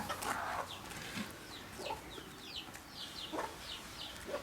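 A hen clucks in short, scattered bursts around horses over a steady outdoor background, with a few brief bird-like calls spaced across the clip.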